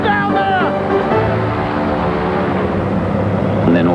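An aeroplane engine drones steadily in flight, a dense continuous hum with layered harmonics that swells slightly at the start and end, with no voices over it.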